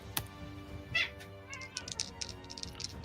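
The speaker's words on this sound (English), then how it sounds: "I hear the cat." A cat meows once, short and fairly close, over a background of small clicks and tapping sounds.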